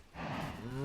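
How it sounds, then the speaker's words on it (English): A single short moo from a cow in the Minecraft video game, close and fairly loud, rising in tone toward the end, with no speech. "there are fewer cows in here than there was"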